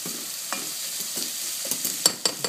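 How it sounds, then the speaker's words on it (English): Peppers sizzle and fry in a hot pan while a Spaghetti Bolognese is being cooked, a steady close crackle broken by sharper spits and stirring clicks, with no talking. "That's sizzling in the pan, and the frying."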